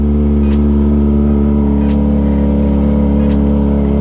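A motorcycle engine idles loud and close, with a steady, buzzing low drone and strong harmonic tones held evenly throughout, with no voices.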